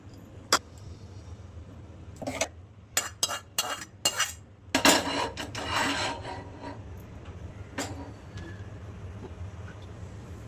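Tomato and onion chutney being scraped from a pan into a small bowl: a burst of scraping and clinking strokes with a pause between them, followed by softer rubbing and a few isolated taps, close by and with no voices.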